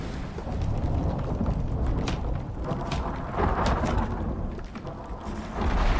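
Thunderstorm in the survival video game ICARUS, with wind and rumbling thunder filling the whole stretch and several sharp crackling strikes standing out, steady and loud.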